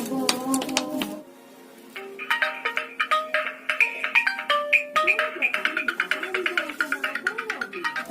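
A melodic electronic phone ringtone plays in a repeating chiming pattern, loud and close, after a brief burst of other sound at the start.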